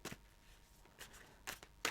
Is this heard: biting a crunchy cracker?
no